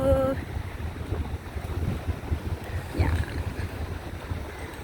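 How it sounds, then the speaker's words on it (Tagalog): Wind rushing and buffeting outdoors, a steady low rumble with gusts, and faint voices in the background. "Ang ganda ng hangin"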